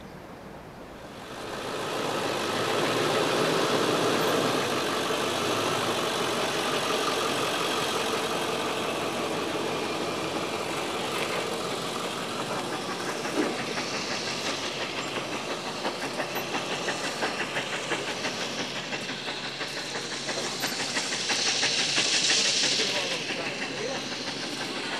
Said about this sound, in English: the last steam locomotive built for the White Pass, 282 number 73